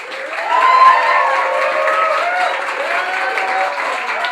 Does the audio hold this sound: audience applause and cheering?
yes